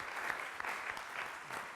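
An audience applauds a judge at a university venture pitching event, a steady burst of clapping from a crowd in a hall, lasting under two seconds.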